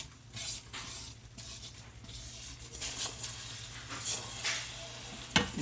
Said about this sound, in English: And see how that's bubbling, boiling. That's what you want.